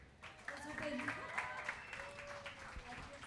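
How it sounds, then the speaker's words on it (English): An audience claps at a song launch event with film cast and crew, a moderate round of applause with some faint voices and tonal sounds mixed underneath. "Can we have one round of applause,"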